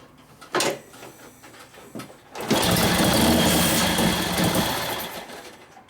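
A 1941 Harley-Davidson WLD 45 flathead stroker engine, first a few scattered clicks and knocks, then it catches and runs with a loud, fast, close mechanical clatter that fades slightly toward the end.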